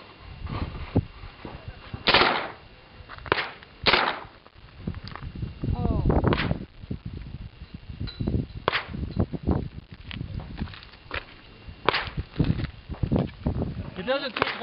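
Wild West guns fired at a desert shooting range, a series of sharp, loud outdoor shots at irregular intervals, with people talking between and over the reports.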